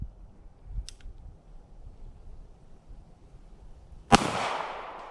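A single sharp shotgun blast from a Black Aces Tactical FD12 bullpup rings out outdoors after a stretch of quiet wind noise, followed by a long rolling echo.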